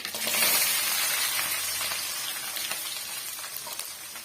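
Onion, green chili, garlic and curry leaves fry in hot oil in a pan, a steady close sizzle that stays fairly loud throughout with faint stirring scrapes and no talking.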